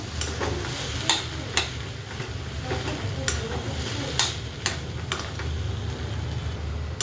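Soybean keema with masala and red chilli powder sizzles in a pan as it is stirred, a steady frying hiss broken by occasional sharp taps of the spoon against the pan.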